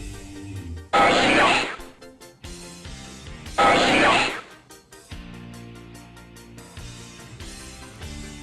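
A short electronic Pokémon creature cry, Tentacool, repeats twice in bursts of harsh noise, followed by chiptune-style music continuing underneath.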